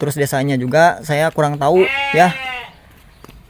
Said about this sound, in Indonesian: Itu suara kambing.